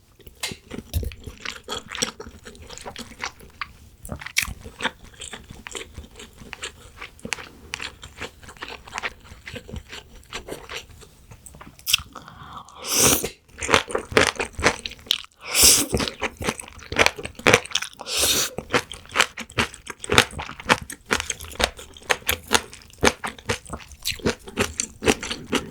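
Close, wet chewing and crunching of spicy braised seafood with roe, in irregular bites and scrapes that grow louder and sharper toward the end, with no talking.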